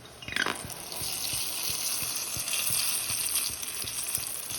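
A battered chile relleno pepper frying in hot oil, a loud dense crackling sizzle that bursts in as the pepper goes in and then holds steady and close, with faint regular ticks underneath and no voices.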